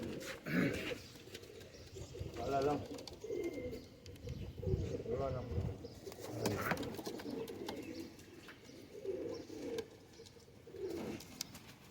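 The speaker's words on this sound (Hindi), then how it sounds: "मेरे फेवरेट तरीन कबूतरों में ये चूहे हैं" Several Sialkoti breed pigeons coo repeatedly in soft, throaty calls, with someone talking over them throughout.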